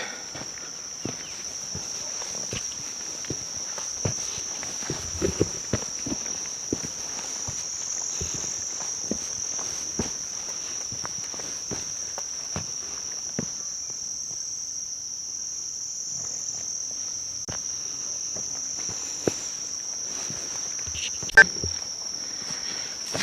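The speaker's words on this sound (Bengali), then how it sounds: "শুধু ঝিঝি পোকার ডাক আর পাখির আওয়াজ শুনতে পাচ্ছি" Crickets in a pine forest near Charkhole, Kalimpong, hold one continuous high, steady shrill trill through the whole stretch, with faint scattered footsteps and rustles beneath and no talk.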